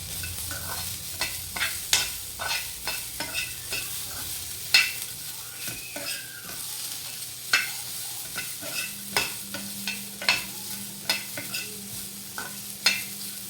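Bitter gourd cooked with chili, salt and turmeric being stirred in a pan, a spatula scraping and clacking at irregular intervals over a faint, soft sizzle.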